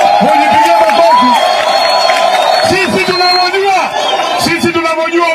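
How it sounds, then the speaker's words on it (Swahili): Loud crowd at a political rally in Kisumu, a dense roar of voices and cheering that fills the whole stretch, with an amplified voice calling out over it and only faint hints of clapping. "Mujipigie makofi."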